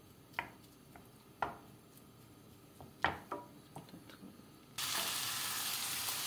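Diced chicken breast pieces stirred in a pan, several distinct scraping clicks spaced a second or so apart over a quiet background, then a loud steady sizzle takes over for the last stretch.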